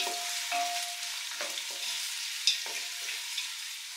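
Thinly sliced onions frying in a pan until brown, a soft steady sizzle with several brief stirring scrapes at close range, and no voices.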